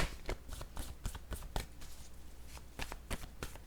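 Playing cards are shuffled by hand for a card reading, a quick run of crisp riffling flutters and soft slaps, close and fairly quiet with no voice over them.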